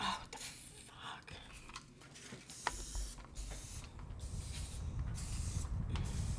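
A lemon-scented aerosol spray hissing indoors near a litter box, a soft breathy burst that builds toward the end, faint and fairly close.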